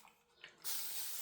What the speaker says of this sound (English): I'll also spray water on that already